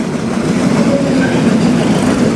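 The Chilahati Express rolls along at night near the Jamuna bridge, giving a loud, continuous rumble and rattle of wheels and carriages with no one speaking.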